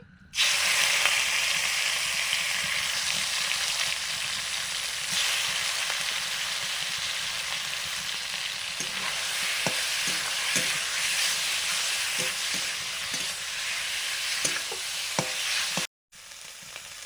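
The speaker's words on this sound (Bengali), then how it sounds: "চিকেনটা এবারে ভেজে নিচ্ছি" Chicken frying in a pan, a loud continuous sizzling hiss close up with occasional clicks of stirring toward the end.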